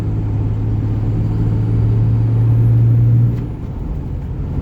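A 2006 Ram 2500 pickup with a 5.9L engine and six-speed transmission gives a loud, steady engine drone whose tone rises and holds, then drops off abruptly partway through, leaving a lower rumble.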